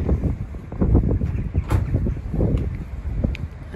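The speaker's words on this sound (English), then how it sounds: "It's very windy." Strong gusts buffet the microphone at an EV charging station, a loud rumbling roar that surges and dips throughout with no other clear sounds.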